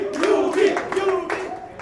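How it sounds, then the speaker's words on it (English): A short burst of clapping from a small audience at an esports championship, steady and close, with voices mixed in underneath. "give them a round of applause, guys."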